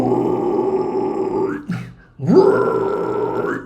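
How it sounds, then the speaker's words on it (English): A low, gritty fry scream used in metal vocals, two long sustained growling bursts split by a short breath, loud and close with no other sound around them. "And you can also fry scream quite low with your fry screams."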